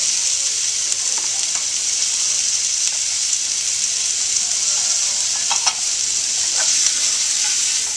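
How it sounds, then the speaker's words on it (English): Onions and andouille sausage sauteing for jambalaya in a restaurant pan, a loud, steady close sizzle with occasional clinks and stirring scrapes, no talking. "Next we'll add the onions and the andouille sausage."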